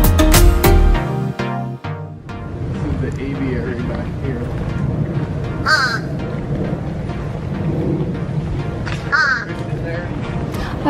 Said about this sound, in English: Some of the fish crows in this habitat are imprinted and have learned to speak.